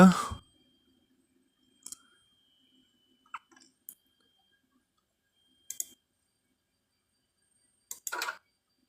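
A 5.25-inch floppy disk drive copying files to drive A, giving a few sparse mechanical clicks and short head-seek bursts, close and quiet, after an initial thump, with no talking.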